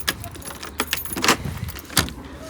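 A bunch of keys jangles and clinks in a few bright bursts as a house door is unlocked outdoors in the UK, with a car passing in the background.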